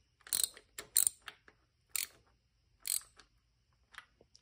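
A ratchet tightens the fuel pump bolt on a Mopar 440 V8 engine during a rebuild, giving several short, close bursts of crisp clicking with brief pauses between them and no talking.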